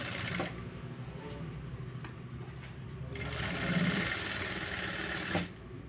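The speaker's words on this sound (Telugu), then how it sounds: "ఆ మందం మీద నుంచి కుట్టు అనేది వేయాలి." A sewing machine stitching a sleeve through thick layered fabric, its motor whirring steadily and close up through the whole stretch, swelling slightly midway and pausing briefly near the end.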